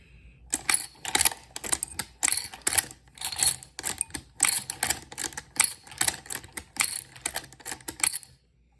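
A 1918 WWI Browning machine gun belt filling machine, hand-operated and held rather than bolted down, clatters in a rapid run of sharp mechanical clicks and clacks, close and fairly loud, with no voices.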